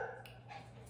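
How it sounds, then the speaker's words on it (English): Dogs wrestling indoors, giving short barks and yips with a whimper, close and continuous through the second with no talk. "Please excuse my dogs. They are wrestling."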